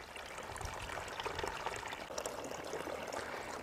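Water from a hose pours into the reservoir of a GreenStalk vertical planter, a steady splashing, trickling flow that stays even and close for the whole stretch, with no talking.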